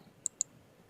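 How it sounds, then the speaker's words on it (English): A computer mouse clicks the Send Emails button while inviting members to a resort reservation: two quick, sharp clicks in succession, fairly faint, with no talking. "You click Send Emails."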